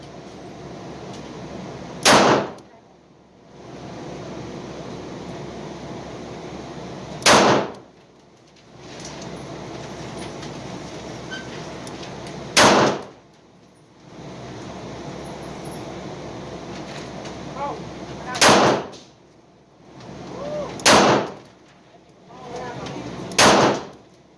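A Colt Detective snub-nose revolver fires double action, slow fire, at 7 yards outdoors. Six sharp, loud single shots come several seconds apart over a steady background hum.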